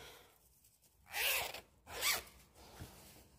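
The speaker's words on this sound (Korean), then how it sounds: "지퍼 올려 보시고요" A zipper on a sewn sailor-collar dress is pulled up in two quick rasping strokes, close and clear, with a faint click afterward in a quiet sewing room.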